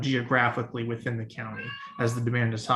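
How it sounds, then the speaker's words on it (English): A cat meows loudly several times during a public county committee meeting held by video call, its cries overlapping a person who keeps speaking. "if you'll excuse my cat"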